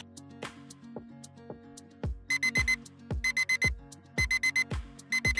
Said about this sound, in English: So usually I set my alarm on snooze quite a few times before I actually wake up.